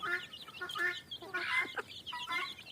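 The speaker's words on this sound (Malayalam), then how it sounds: "നാടൻ ലൈനേജ് കോഴിക്കുഞ്ഞുങ്ങൾ വിൽപ്പനയ്ക്കുള്ളതാണിത്" Native-lineage chicks about twenty days old, kept for sale, peep and cluck in quick, close bursts, several birds calling over one another.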